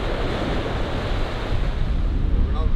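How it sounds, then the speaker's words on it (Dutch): Strong wind roars across the microphone on an Algarve beach in a constant heavy rush, with surf churning underneath; loud and unbroken, no voices. "Zoals je misschien wel hoort en ziet, staat er flink wat wind op het strand."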